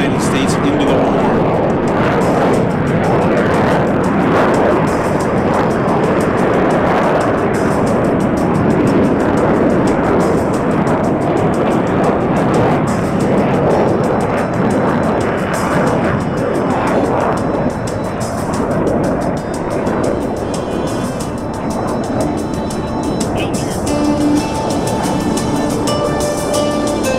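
Military aircraft roaring past during a Pearl Harbor attack reenactment at the MCAS Yuma Airshow, a loud sustained engine roar that swells and fades across the whole stretch, with a commentator speaking over it.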